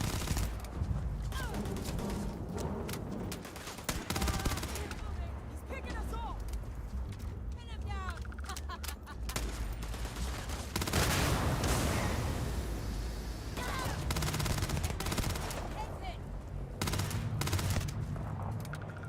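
Turret and weapon fire in Starfield rattles in dense bursts and rapid volleys, with heavy impacts at close range, while a player talks over much of the fighting.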